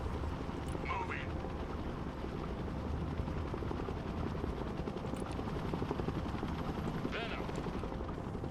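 An AH-1 attack helicopter in the war game Broken Arrow produces a constant, loud rotor drone throughout, with brief voice snippets now and then under the noise.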